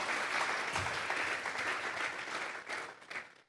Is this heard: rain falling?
no